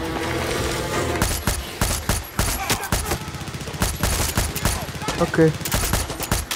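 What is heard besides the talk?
gunfire in the video game Far Cry 6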